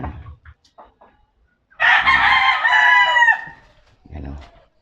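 Young rooster crowing once, a loud, strained cock-a-doodle-doo lasting about a second and a half, close by, with brief clucks and some faint talking around it.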